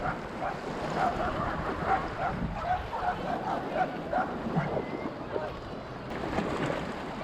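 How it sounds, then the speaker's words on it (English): Dogs bark in short bursts at a distance on a rocky Adelaide shoreline while squid fishing, with waves and water wash steady underneath throughout. "Dogs are beefing"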